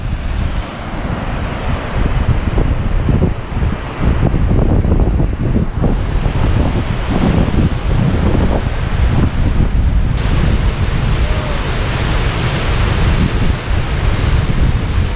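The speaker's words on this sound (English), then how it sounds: "One last waterfall." Highland mountain waterfall on the slopes of Ben Hope in Sutherland, Scotland, a loud, continuous roar of rushing water mixed with buffeting wind on the microphone.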